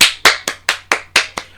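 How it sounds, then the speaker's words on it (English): Slow, rhythmic clapping from an audience: seven sharp, loud, close claps spaced evenly about a quarter second apart, with no other sound between them. "Round of applause, everyone, in that situation."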